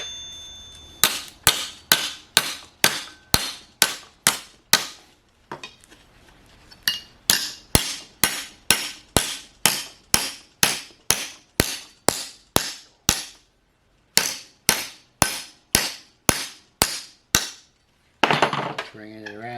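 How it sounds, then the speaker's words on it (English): Sharp, ringing hammer blows strike sheet metal as a rust-repair rocker panel is hammerformed in a fixture, coming in fast regular bursts with brief pauses, loud and close, ending in a longer scraping clatter. "we just kind of keep hammering it and working it"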